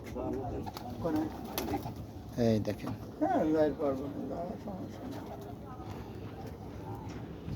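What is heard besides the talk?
pigeons cooing at the ship port area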